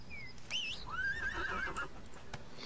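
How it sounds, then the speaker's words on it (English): A horse in the video game ArcheAge lets out a clear, rising and wavering whinny, with faint hoofbeats and soft game ambience underneath. "Run, horsey, run."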